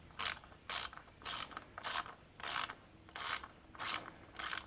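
A ratchet tightening the coil pack bolts on a Mazda Axela 2.3-litre engine, eight even clicking strokes in a steady rhythm, close and fairly quiet with no talking.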